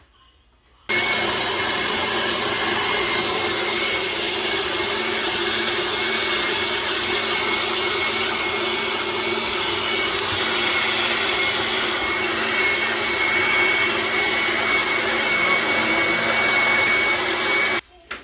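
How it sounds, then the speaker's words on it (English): A blender runs steadily for about seventeen seconds, pureeing shrimp enchilada sauce to a soup-like consistency, with a loud, even motor whir that starts abruptly and cuts off at the end. "we're going to blend it up to a consistency of soup"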